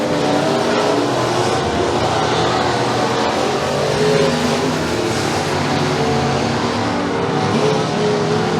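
Pure stock race cars roar around a dirt oval at McKean County Raceway, a dense, continuous engine drone that swells and shifts as several cars pass, with no break throughout.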